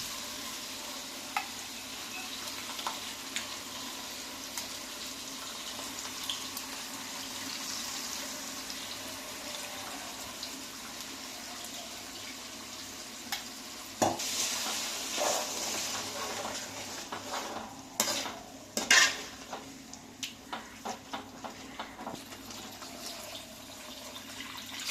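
Tamarind pulp added to a pan for a Nellore-style fish curry, bubbling softly with a quiet sizzle, then a run of sharper stirring clinks and scrapes near the end.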